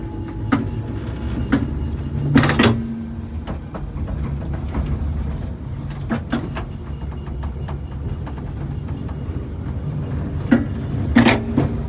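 A heritage tram rolls along its rails at the Ballarat Tramway Museum, with a steady low rumble from onboard and sharp metallic clacks and squeals recurring at intervals as the wheels cross joints.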